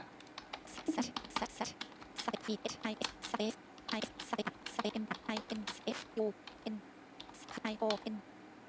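Fingers tap out a code comment on a computer keyboard while writing a Go program, a steady run of close, crisp keystrokes in uneven bursts under someone speaking Thai.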